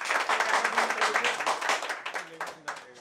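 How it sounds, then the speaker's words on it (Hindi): An audience at the muhurat ceremony of a Bhojpuri film claps in a lively burst. Voices talk over the applause as it tapers off. "तालियां हो जाए।"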